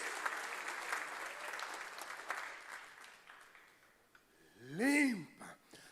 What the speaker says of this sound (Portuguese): Aplauda Ele em nome de Jesus.